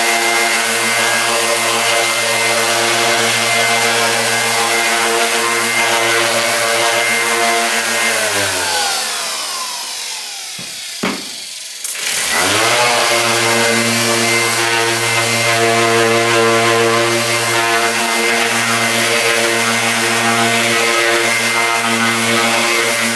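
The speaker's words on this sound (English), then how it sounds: "I'm just going to run an orbital sander across the front and the back" An orbital sander runs loud and steady across a solid walnut Telecaster guitar body, winding down to a brief stop near the middle, then spinning back up to a constant whine.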